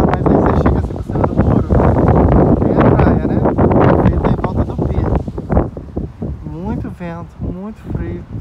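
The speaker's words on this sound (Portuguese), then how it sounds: "Gente, tá uma ventania, mas tá um frio de doer." Strong, cold wind roars by the pier at Dun Laoghaire, buffeting the microphone with a loud, continuous rumble while someone talks over it, easing slightly near the end.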